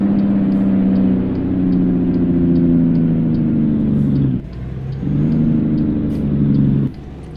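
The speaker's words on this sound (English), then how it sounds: "Let's try some engine brake" Engine braking on a 1960 Peterbilt 351 truck in American Truck Simulator, a loud, close, throaty harmonic rumble that drops out briefly midway, then resumes before cutting off near the end.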